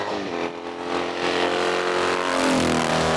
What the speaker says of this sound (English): It's great to see the familiar Foster BMW in action again